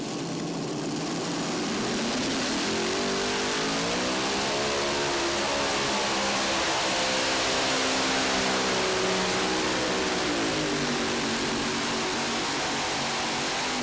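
Modified tractor pulling at a national championship, a loud continuous engine roar at full power with pitch rising and wavering, then sagging as the rear engine loses power, sustained throughout.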